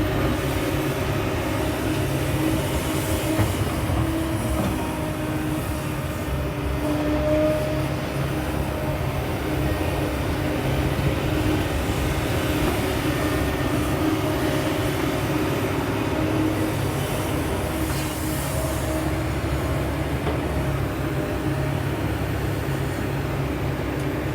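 SK200-10 excavator working, throwing soil to shape the bank of a reservoir, a steady droning engine roar with shifting hydraulic whine, constant and fairly close for the whole stretch.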